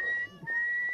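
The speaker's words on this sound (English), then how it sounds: "Now here's some whistle speech." Pirahã whistle speech, a steady high whistled tone held through most of the second with a brief dip in the middle, close and fairly loud with no talking.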